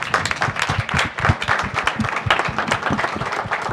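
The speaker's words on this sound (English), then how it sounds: "Let's give our folks who participated one more round of applause." Round of applause for participants at a Tucson Hispanic Chamber of Commerce round table, dense steady clapping from a room of people throughout, fairly close and lively.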